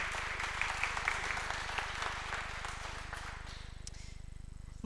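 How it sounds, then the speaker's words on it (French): Audience applause at an award ceremony for metropolitan trophies: a room of people clapping steadily, fairly faint, thinning slightly toward the end into a more regular patter. "on peut applaudir Jessica"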